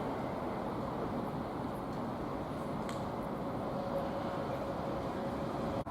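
Class 802 trains, units 802302 and 802304, passing through Stevenage station on the East Coast Main Line: a steady, loud rolling rumble that holds for the whole stretch, with a faint high squeal late on.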